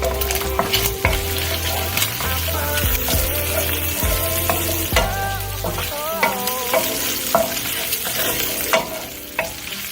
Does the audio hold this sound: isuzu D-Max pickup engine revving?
no